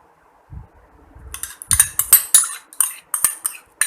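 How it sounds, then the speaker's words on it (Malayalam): A metal spoon clinks and scrapes repeatedly against a bowl while breaking up lumps of curd, a quick irregular series of close, fairly loud taps after a brief quiet start. "സ്പൂണുകൊണ്ട് തന്നെ അതിലെ കട്ട ഉടച്ച ശേഷം ഇതിലേക്ക് ഒഴിച്ചു കൊടുക്കും"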